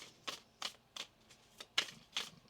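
Tarot cards being shuffled by hand, about six quick riffling bursts in an uneven rhythm, close and quiet, with no talking.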